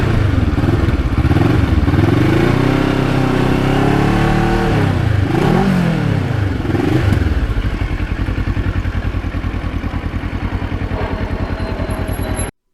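Kawasaki Ninja motorcycle heard close while riding, engine revving up and down through gears with sweeping pitch changes, then settling into a steady, throbbing cruise with no speech.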